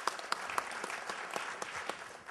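A panel audience claps for a Los Angeles mayoral candidate, a brief burst of quiet, distant applause with a few sharper individual claps standing out.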